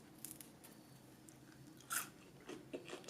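Crispy deep-fried french fries from an electric home deep fryer bitten and chewed close up, a few quiet crunches with one sharper bite near the middle, over low background noise.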